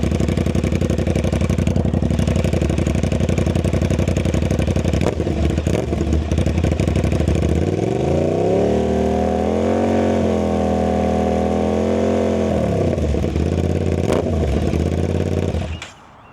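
Aprilia RS660 motorcycle fitted with an SC Project CRT exhaust, loud and close, idling steadily before sweeping up through several sustained revs, then holding high before dropping off and cutting out abruptly.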